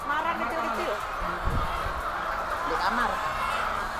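Hens in an egg-laying coop cluck and squawk in short irregular bursts beneath people talking nearby.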